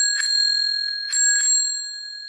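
A tring-style bicycle bell rings in two bright bursts, each a quick cluster of metallic strikes whose clear tones linger and fade, close and alone with no talk.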